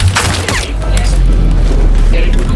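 AK rifle gunfire in a Call of Duty game: loud, dense booming shots with sharp cracks, packed tightly across the whole stretch and fading slightly near the end.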